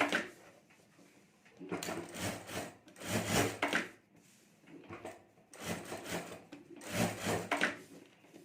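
A homemade sling bag being stitched by hand or machine gives repeated rubbing, rasping strokes in regular bursts roughly every second, close up with no talking.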